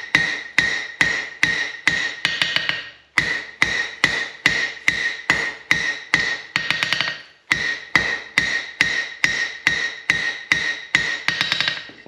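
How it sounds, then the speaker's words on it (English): Blacksmith's hammer striking hot metal on the horn of an anvil, a steady run of sharp ringing blows in quick bursts with brief pauses between sets, loud and close, no talking. "You want to be striking right in the center of your horn."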